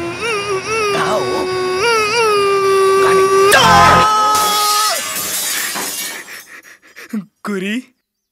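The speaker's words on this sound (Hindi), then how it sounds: "राजा गाइंग शीशा टूटिंग" A glass window shatters with a loud, bright crash and a spray of falling shards, right after a man's strained, wailing singing that fades into scattered tinkling.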